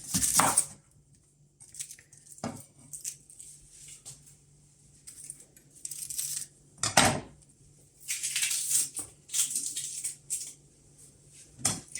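A knife chopping an onion strikes a cutting board in scattered bursts, some quick chops and single knocks, with quiet gaps between, close by.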